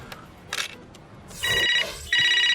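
A telephone rings in a Hindi comedy film scene, two bright electronic trilling bursts in quick succession following a few soft clicks and rustles, loud and close with no voices over it.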